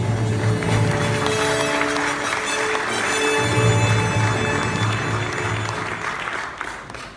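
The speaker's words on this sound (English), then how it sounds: "I'll give him a round of applause." An indoor audience gives a speaker a round of applause, a steady, dense clapping that fills the whole stretch, loud and close, with a few faint voices and tones mixed in.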